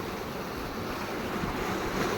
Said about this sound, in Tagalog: Ngayon, galing sa labas, yung tubig, papasok dito sa loob ng palisdaan.